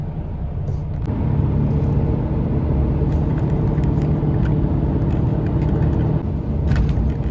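Truck cab on the autobahn with a steady low engine rumble and road drone throughout, a brief change near the start, no talking.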